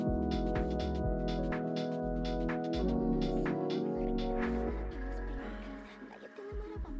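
Vintage Rhodes XL electric piano played in Kontakt with random velocity, sustained future bass chords ringing steadily and fairly loud, layered with other synth tones and no voices.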